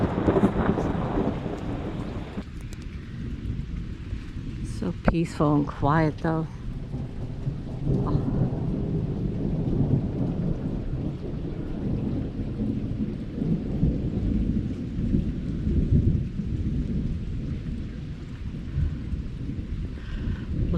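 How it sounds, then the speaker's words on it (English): A summer thunderstorm with loud rolling thunder booming up close over steady rain, with a person speaking briefly partway through. "I'm sure you can definitely hear the thunder."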